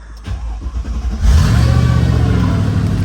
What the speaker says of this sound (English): This is push start, foot on the brake, start her up.